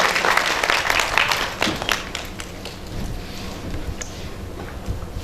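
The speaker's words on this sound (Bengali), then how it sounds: "একটু জোরে হাততালি হোক।" Sustained applause from an audience at a cultural organisation's felicitation ceremony, dense and steady clapping that carries through the whole stretch at fairly close range, easing slightly midway.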